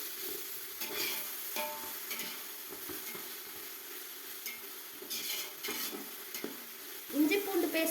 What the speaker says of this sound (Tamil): கொஞ்சம் கை விடாமல் கிளறிட்டே இருங்க, சரியாயிடும்